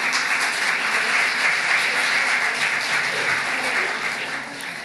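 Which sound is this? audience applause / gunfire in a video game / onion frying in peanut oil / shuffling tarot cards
audience applause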